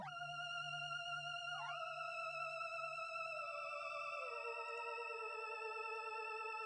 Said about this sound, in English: The pad by itself sounds like this.